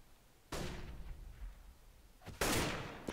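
Gunshots in Counter-Strike on the de_mirage map during a tournament match: two sharp, loud reports about two seconds apart over faint background noise, with no talk.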